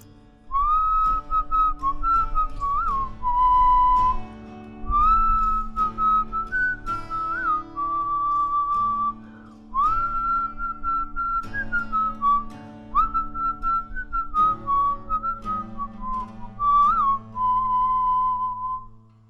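A clear, melodic whistled tune, sustained and close, with short pauses between phrases and no talking.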